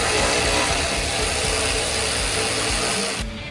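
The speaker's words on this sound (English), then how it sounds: "I just need to get this bolted more." A ratchet tightens a bolt on a Porsche 911, giving a loud, close run of rapid mechanical clicking and rubbing that continues for about three seconds and then cuts off abruptly.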